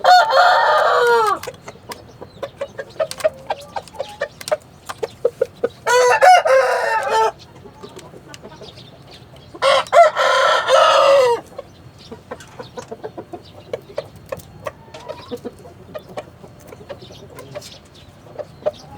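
A rooster crows loudly three times, spaced apart, while hens cluck and scratch softly nearby between the calls. The birds are Taiwanese fighting chickens.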